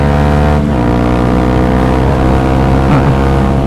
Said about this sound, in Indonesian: di gigi 2 kita gas full